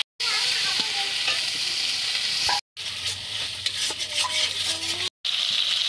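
Ginger, cumin, chili and onion pastes hiss loudly in hot oil in a pan, a steady close sizzle broken by brief gaps, with faint stirring scrapes.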